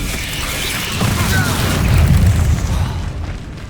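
Bombarda blasting spell from Hogwarts Legacy going off, a heavy booming explosion with rumbling low thump and crackling debris mixed with game effects, loud and close over a few seconds.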